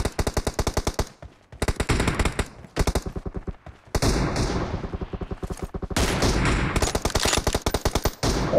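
Automatic gunfire in a video game, rapid loud bursts of shots broken by short pauses, with one longer sustained stretch of continuous firing.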